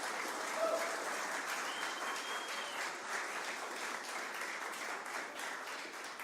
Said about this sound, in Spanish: si le va a dar un aplauso al Señor